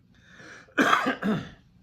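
Two quick, close coughs, one after the other, following a brief soft vocal sound.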